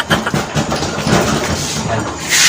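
A small carbureted engine, run on a fresh fuel mix, starts with a few uneven bursts and then runs at a steady, close, fairly loud rumble that swells again near the end.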